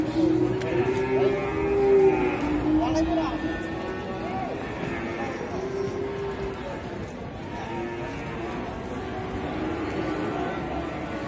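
A long-legged cow moos in a drawn-out low call that comes back in several repeated bellows, fairly close and loud, while people talk over it throughout.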